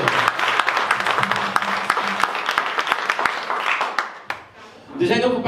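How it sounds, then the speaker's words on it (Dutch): Dense crowd applause with scattered sharp claps filling the first four seconds, fading briefly before voices and noise rise again. "echt even een applaus voor onszelf"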